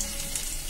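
Chopped garlic frying in oil in a wok, a brief steady hiss of sizzling oil up close with faint crackle, no voices.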